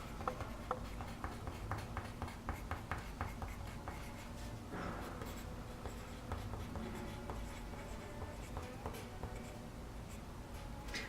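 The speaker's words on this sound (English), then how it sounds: "I'm actually going to write my name on the bottom of my paper right away" A pencil writes a name on paper in quick, scratchy strokes with short pauses between letters, close and fairly faint, with no talking.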